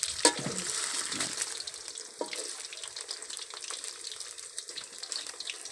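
Food frying in a pan in a home kitchen, a steady close hiss and crackle of sizzling oil with small pops, continuing without talk.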